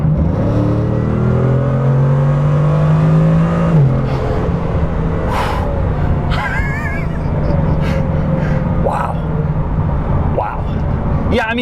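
A Bugatti Chiron floored at full throttle, its engine note climbing hard for a few seconds and then dropping away, followed by lighter mechanical whirs and scattered faint noises, loud and close throughout.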